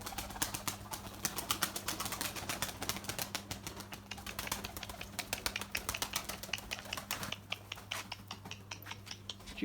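Fantail pigeons in a coop, fourteen-tailed young birds among them, give rapid scratchy clicking and scraping sounds, likely feet and wings, over a low steady hum, close and continuous throughout.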